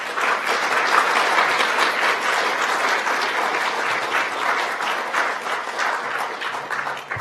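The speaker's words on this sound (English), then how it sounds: "they deserve a big round of applause for their work" An audience at an Ontario announcement on Indigenous postsecondary education gives a long round of applause, steady many-handed clapping sustained for about seven seconds without talk, tapering slightly at the end.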